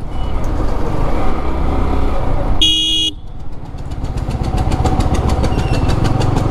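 Car or motorbike speeding along a highway during rough overtaking, with a loud steady engine and wind roar throughout, a sharp horn blast in the middle, then the engine rising again.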